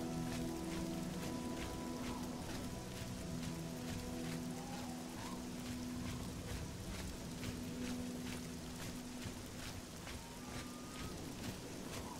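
Steady rain in the video game The Elder Scrolls IV: Oblivion patters throughout, a dense hiss with scattered drops, heard alongside sustained musical tones in the background.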